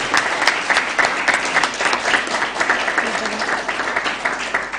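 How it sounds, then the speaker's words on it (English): An audience at a Kenyan moot court competition award ceremony gives a loud, close round of applause, thick continuous clapping with a few prominent nearby claps, lasting a few seconds. "So let's give her another round of applause."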